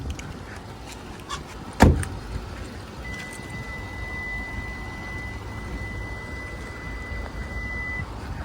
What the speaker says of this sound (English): The vehicle will automatically beep to let you know that the key fob has lost proximity of the car and the car is still running.